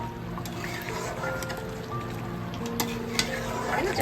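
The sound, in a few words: stirring Shahi Pani in a pan on the stove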